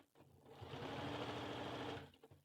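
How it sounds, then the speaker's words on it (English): A sewing machine stitches close to the edge of a doll's wrap skirt, whirring in one steady burst of about a second and a half, close and quiet, starting and stopping cleanly. "you stitch on the facing side close to the edge"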